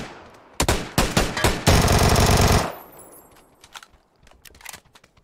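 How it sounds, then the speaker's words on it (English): Rapid automatic gunfire from a battle royale shooter game, with a few sharp single shots followed by a loud sustained burst, then fainter distant pops and rattles trailing off. "They're far shooting at us."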